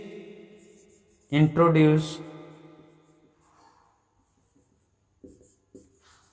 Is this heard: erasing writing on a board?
yes